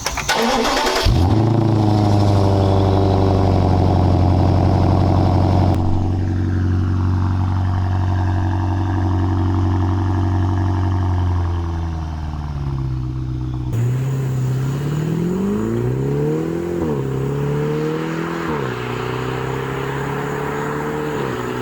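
A BMW N63 V8 engine fires up and settles into a deep, throaty burble through a noisy muffler setup, then revs rise and fall, loud and close by.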